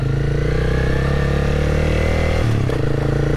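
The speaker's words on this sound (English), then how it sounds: "Trying to perfect this art of motorcycle riding." A Yamaha R6 sport motorcycle being ridden, its engine droning steadily and loudly up close, with a brief throttle shift and dip in pitch near the end.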